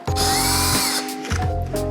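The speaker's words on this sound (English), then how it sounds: "So next we're just going to drill a little hole where we've marked on the wall." A power drill whirs loudly in two bursts as it drills a small hole into a wall for plasterboard anchors, pausing briefly between them, its motor pitch steady and close.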